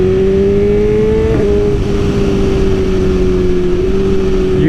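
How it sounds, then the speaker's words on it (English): Motorcycle engine droning loud and close with a steady high tone, pitch dipping slightly as it shifts mid-run, with no voices over it. "You ever just accelerate just so you can downshift?"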